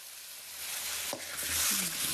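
Chicken feet dropped into hot oil with ginger and coriander powder for a Rayalaseema-style fry, giving a steady close sizzle with a sharper hiss swelling near the end, no voices.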